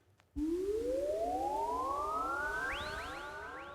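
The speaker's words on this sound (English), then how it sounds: "these little space sounds" A spacey synth effect from the Lo-Fi Glow Kontakt library starts abruptly after a moment of silence, a bright tone with many harmonics sweeping smoothly upward, with echoing arcs appearing near the end as it slowly fades.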